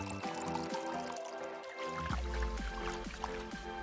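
Water poured into a bowl of ground strawberries, a steady soft trickle and fill that deepens in tone partway through, with no talk.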